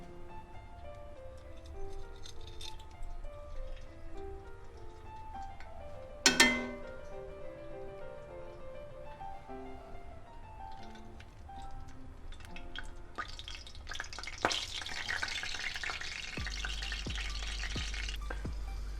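Pork belly frying skin side down in hot oil, a continuous close sizzle with occasional pops and one sharp metallic knock as the meat is pushed around in the pan; no voices.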